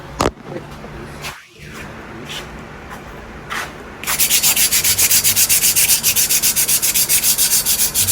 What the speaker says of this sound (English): I'll sand it a little bit more.